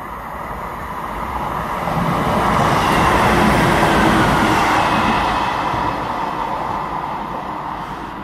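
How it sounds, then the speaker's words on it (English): A train rumbles past Low Moor station without stopping, the noise swelling to a peak midway and then slowly fading as it moves on. "So that service was probably one of the Manchester Victoria trains that isn't stopping."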